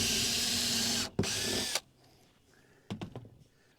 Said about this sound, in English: we're going to go ahead and pre-drill